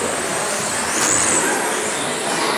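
Remote-controlled on-road race cars in a final, a continuous high-pitched buzzing whine of small motors at steady volume with a brief sharper rise midway.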